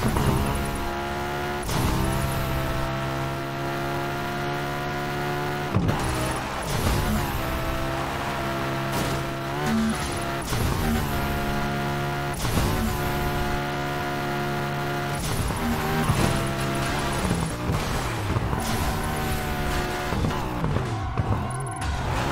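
A car racing through a stunt run in Burnout Paradise Remastered, engine droning steadily at high revs with repeated shifts in pitch as it boosts and drifts, loud and continuous from start to finish.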